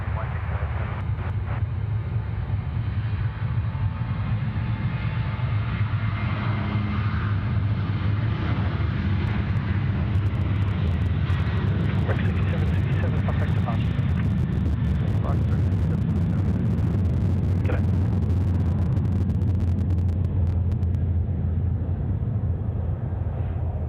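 A Virgin Australia Boeing 737-800 on its take-off roll at Sydney Airport gives a loud, sustained low engine roar heard from a distance, steady for the whole stretch with wind buffeting and faint voices underneath.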